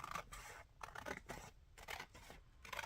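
Scissors snip carefully through fragile paper while setting up a retro journal, a few soft, quiet cuts close by with short pauses between them.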